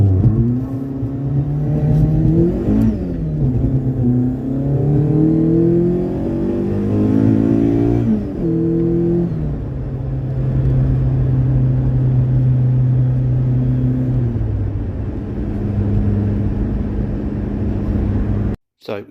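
A Mk2 VW Golf GTI 16v on a dyno rolling road climbs through rising revs in steady pulls, then settles to a loud, even high drone before cutting off, with voices talking over it.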